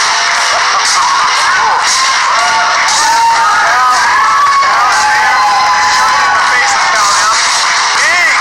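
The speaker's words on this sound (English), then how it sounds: "Big round of applause here for who's the boss" A crowd at a Schmoedown event cheers and whoops, with scattered shouts rising and falling over a dense, continuous roar, loud and close throughout, while a voice talks under the noise.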